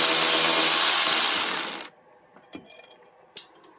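Working on the driver-side front upper control arm of a Mercedes-Benz W211 4Matic, a loud mechanical whirring stops, and then the metal nut holding the height sensor link drops with a couple of small, close metallic clinks.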